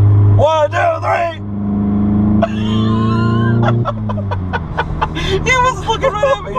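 A car accelerates while racing another car, its engine rising in pitch with a strong low drone and harmonic sweeps, heard up close with voices talking over it.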